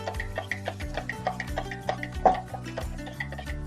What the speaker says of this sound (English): we'll just keep stirring for a few minutes until it's fully dissolved and there's no lumps or clumps